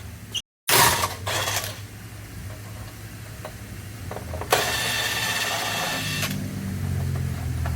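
A wrench works bolts loose from a car's mount, giving a few short metallic clicks early on, then a steady scraping, ratcheting rasp for a couple of seconds, close and moderately loud.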